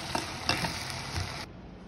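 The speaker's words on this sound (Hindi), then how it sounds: "तभी भी हम इसे भून लें।" Bheja fry, brain cooked with butter and ginger, fries in a pan, a steady close sizzle with a few scraping stirs before it suddenly drops away near the end.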